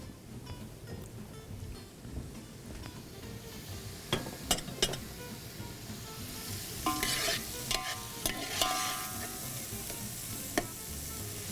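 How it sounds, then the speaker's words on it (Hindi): Prawns frying and being stirred in a pot for prawn biryani, a steady sizzle with scraping stir strokes and clattering bursts, close and fairly loud, no voices. "प्रॉन बिल्कुल नहीं पक्का है अभी, सिर्फ उसको हीट लगी है थोड़ी सी"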